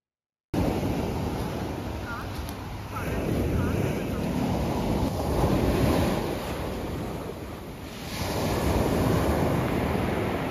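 Sea waves wash steadily onto the shore during a seaside stroll near Cannes, a broad continuous roar that swells and recedes, with wind buffeting the microphone throughout and no talk.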